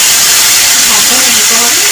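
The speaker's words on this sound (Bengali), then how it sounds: "এইবার আমি আদা, টমেটো আর কাঁচা লঙ্কার পেস্টটা দিয়ে দিলাম।" Ginger, tomato and green chili paste lands in hot oil, setting off a loud, close, continuous sizzling hiss that holds steady throughout.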